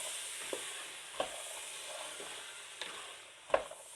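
Chopped carrots cooking in a pan for aloo gajar sabzi, giving a soft steady sizzle with a few sharp stirring clicks and scrapes spaced through the four seconds; no voices.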